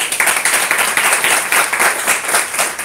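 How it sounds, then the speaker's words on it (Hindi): Loud audience applause at a Hindi Christian church gathering, dense rhythmic clapping pulsing steadily for about three seconds, close and energetic with no speech over it. "मैं चाहूँगा कि जोरदार तालियां"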